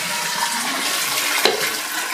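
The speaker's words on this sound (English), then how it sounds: "Full flush is fine, so I just need to adjust the short flush." A toilet fitted with a Roca dual flush valve runs a full flush, giving a loud, steady rush of water close by with a gurgle near the end.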